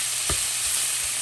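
Ground beef sizzles in a pan with soy sauce substitute, ground ginger and a little olive oil, a bright continuous hiss up close with a couple of soft low knocks.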